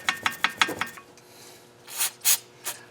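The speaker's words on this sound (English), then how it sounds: "Trying to get inside of the head of the casting plug with the pointy part of the brush." A brush scrubbing inside the casting plug of a KA24DE engine head during a rebuild: a run of quick, close rasping strokes, a short pause, then a few slower, louder scrapes.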